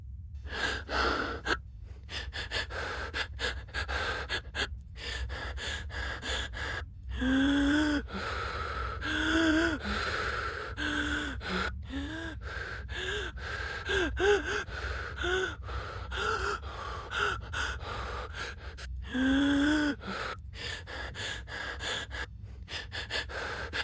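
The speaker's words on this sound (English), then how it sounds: "Breathing." Repeated heavy breathing with sharp gasps from a character in a Fortnite UEFN game, coming in irregular bursts over a steady low background hum, fairly close and moderately loud with no talking.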